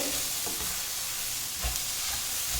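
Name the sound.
okra stir-frying in a pan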